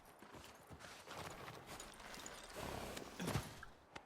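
Horse hooves clip-clop in The Last of Us Part II Remastered, quiet, uneven footfalls with a brief louder thud near the end and no talk.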